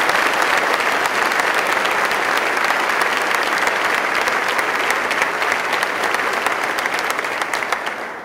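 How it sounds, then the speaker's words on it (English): An audience at a State of the State address in Potsdam gives a round of applause for a regional leader, a broad, sustained clatter of many hands that stays loud and fairly even, tapering slightly at the end, with no voices over it. "let's give him a round of applause, Tony"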